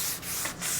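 Mid-coat sanding by hand on a wooden floating shelf, a close, hissing rub stroked back and forth in short passes with brief dips between strokes.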